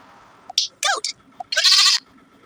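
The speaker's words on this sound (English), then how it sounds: "Goat." Goat bleating in a children's animal-sounds sequence, several short bleats of rising intensity with one longer, louder bleat at the end, close and clear.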